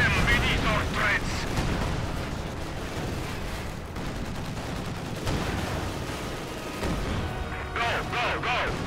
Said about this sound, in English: 152 millimeter loaded. Fire again.